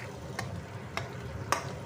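Beaten egg mixture fries in a pan with a soft steady sizzle, broken by three distinct scraping stirs, close and quiet.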